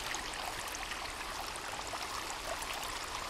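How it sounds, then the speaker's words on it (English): Running water flows continuously through a forest stream in the survival video game Sons of the Forest, a steady, fairly quiet broadband rush with no clear breaks. "The running water."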